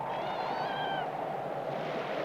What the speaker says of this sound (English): Monotony is dispelled by the arrival of Spunky the kitten